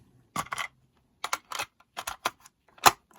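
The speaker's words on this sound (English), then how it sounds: "as soon as I put a tape in here" A cassette tape is pushed into a Sanyo M-G31A radio cassette player that has new belts and a slipping reel, making a series of close, sharp plastic clicks and clunks in uneven bursts, with no talking.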